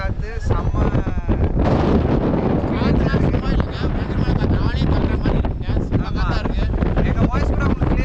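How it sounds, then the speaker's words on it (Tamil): Strong gusting wind from Cyclone Fengal roars and buffets the microphone in an open area of Chennai, a loud continuous rumble with voices talking underneath, partly drowned out. "அதோட விண்டோட சவுண்ட் அப்படி இருக்குங்க."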